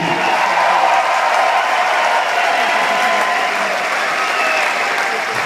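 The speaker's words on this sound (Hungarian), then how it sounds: "Egy kis tapsot kérek neki." Loud, sustained applause from a large concert audience at a show in Budaörs fills the whole stretch, dense and even with no pauses.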